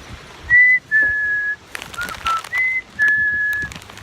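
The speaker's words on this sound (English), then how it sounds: "Let me do my whistle." A person whistles a series of clear, steady high notes in short and longer bursts, with breezy outdoor noise underneath.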